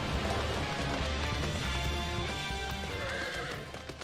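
A flying horse mount in Final Fantasy XIV lets out a loud, sustained whinny over galloping clip-clop hooves and game effects, filling the whole stretch with no speech.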